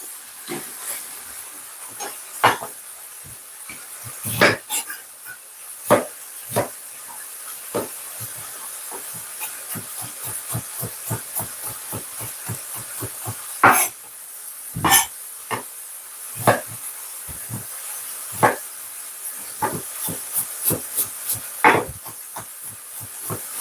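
Steady hiss of food browning in a hot pan, a constant high sizzle broken by frequent sharp crackles and spits, close and fairly loud with no talking.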